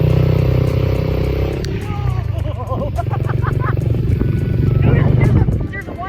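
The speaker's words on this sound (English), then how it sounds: "We are on the quad with Jay." Quad bike riding over bumpy ground, a loud close engine droning and revving with rattling clatter from the rough terrain, while riders talk over it throughout.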